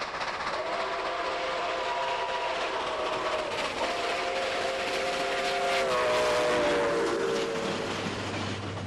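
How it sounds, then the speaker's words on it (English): A train horn sounds in long sustained blasts as the train passes, the pitch sliding downward in a clear Doppler shift over a background of rolling rail noise. "You'll hear the unmistakable sound of the Doppler effect as the train passes by"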